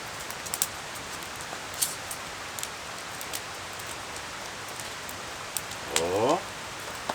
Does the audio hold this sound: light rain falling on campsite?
yes